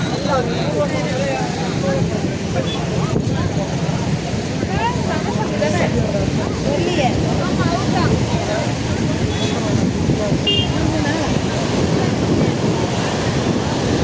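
Loud, continuous roar of rushing floodwater after Cyclone Fengal in Puducherry, with wind buffeting the microphone, unbroken throughout; voices may be faintly present beneath the noise.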